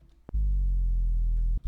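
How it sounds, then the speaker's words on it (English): A Serum synth bass with soft clipping distortion plays one loud, buzzy sustained low note of just over a second, rich in harmonics and gently falling in pitch, ending with a short clipped stab. "then on the effects, I got distortion,"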